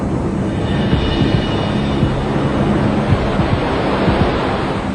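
Stormy North Sea waves crash under strong wind against the Dutch coast, a loud continuous roar of surf and gusts buffeting the microphone, with no voices.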